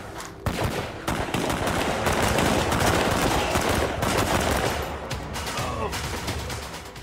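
Rapid sustained gunfire in a film, bursts of automatic shots rattling close and loud for several seconds, with a brief pause near the start.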